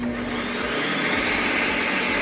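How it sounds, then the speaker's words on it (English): A Ninja Creami machine runs its respin cycle on a pint of protein ice cream, a loud, steady whirring motor drone with a constant hum from start to finish. "put it back into the machine and use the respin setting"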